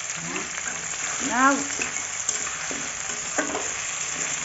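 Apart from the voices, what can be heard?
onion, garlic and potato frying in a pan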